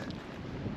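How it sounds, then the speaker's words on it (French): Steady wind buffeting the microphone at a hilltop fort in Marseille, a continuous low rumbling roar with gusty swells throughout. "désolé pour le vent"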